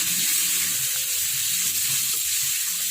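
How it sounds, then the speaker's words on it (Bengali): Potatoes frying with spices in a hot pan give a steady, loud sizzle with faint stirring, close by and continuous, no voices. "তারপরে আলুটা দিয়ে আলুটার সাথে মশলাটা ভালো করে কষিয়ে নিলাম"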